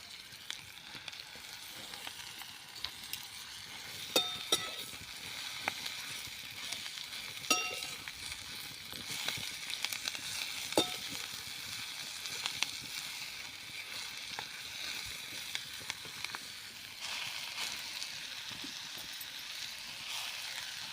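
Fenugreek greens sautéing with garlic and green chili in a pan, a soft continuous sizzle with occasional scrapes and clicks of stirring, close but fairly quiet, with no talk.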